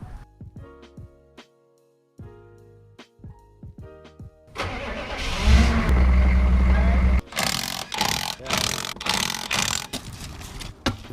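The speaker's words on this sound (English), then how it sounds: "we're going to drive this trailer forward onto these automotive ramps" A vehicle engine cranks and starts partway through, then runs loud and revs while pulling a trailer forward onto automotive ramps, after a stretch of scattered knocks and clicks.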